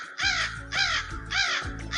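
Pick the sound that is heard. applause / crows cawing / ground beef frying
crows cawing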